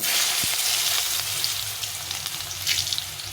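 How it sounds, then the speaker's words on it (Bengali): Thin, long potato slices fry in oil in a pan with bay leaf, dried red chilli and cumin, making a steady, fairly quiet hiss with a few soft stirring knocks. "আলুটা একটু ভেজে নেবো"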